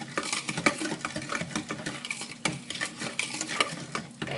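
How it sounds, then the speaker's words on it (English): A whisk stirs pudding mix in a bowl with quick, rhythmic scraping and clinking against the sides, steady and close throughout. "It's going to take about 2 minutes for you to whisk it so it gets all incorporated."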